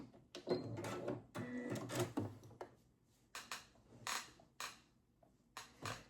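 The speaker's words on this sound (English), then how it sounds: "So I back stitch a lot at the end." A sewing machine back stitches the end of a seam on a baby hoodie towel, giving several short bursts of rapid mechanical stitching separated by brief pauses, close and fairly quiet.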